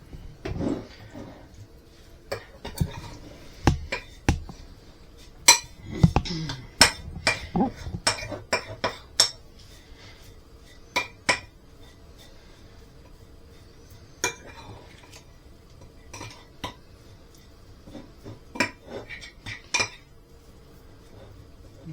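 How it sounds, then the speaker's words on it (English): Wild rabbit being mixed in a pan for fajitas: scattered metallic clinks and scrapes of a utensil against the pan, irregular and close, with quiet gaps between bursts and no talking. "you want to put in your wild rabbit and mix it all up"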